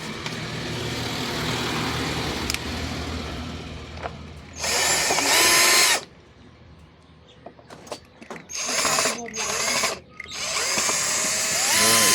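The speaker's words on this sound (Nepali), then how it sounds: "यसलाई मैले खोल्दैछु र स्क्रु खोलिरहेको छु।" A power drill backs screws out of the inside of a vacuum cleaner. It whines loudly in three bursts of one to two seconds each, over a constant background hum.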